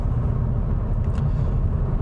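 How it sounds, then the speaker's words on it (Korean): Steady road and tire roar inside a 2019 Hyundai Avante 1.6 gasoline car at mid-to-high speed, a dense, even low rumble that fills the cabin with no talk over it. "타이어를 타고 들어오는 노면 소음이 조금 많이 들어오는 편입니다"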